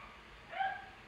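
A dog barking in the video game Wild Horse Islands, one short yelping bark rising briefly over a steady background hum, fairly faint and distant, with no talking.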